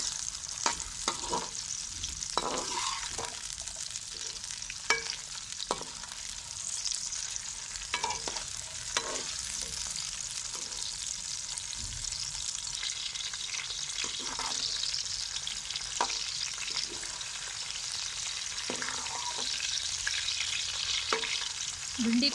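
Okra (bhindi) frying in a pan, a continuous close sizzle broken by frequent scraping and stirring strokes of a spatula, steady and fairly soft throughout.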